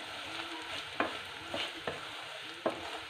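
Grated coconut sautéed in oil in a pan, for coconut rice, gives a soft steady sizzle with four or five scraping stirs of a spoon at irregular intervals.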